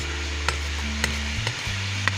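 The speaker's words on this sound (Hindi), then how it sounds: "ये मैंने आलू शामिल कर दिया और लहसुन अदरक का पेस्ट," Potatoes and garlic-ginger paste fry in a pan over a steady low sizzle, with a spatula clicking against the metal every half second or so as it stirs. No one speaks.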